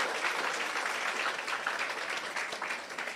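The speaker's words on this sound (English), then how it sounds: "another round of applause for a young," An audience applauding a young Barbadian musician at a polyclinic renaming ceremony in St. George, Barbados, with dense, steady clapping from a crowd at moderate distance that tapers slightly toward the end.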